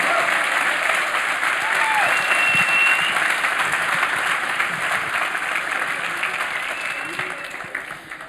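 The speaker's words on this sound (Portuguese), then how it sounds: "Você pode aplaudir ao Senhor?" A church congregation applauds loudly and steadily in a dense, sustained wash of clapping that fades slightly toward the end, with voices faintly mixed into the crowd.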